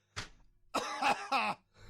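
A person coughs several times: one short cough, then a pause, then a run of harsh, rasping coughs close by.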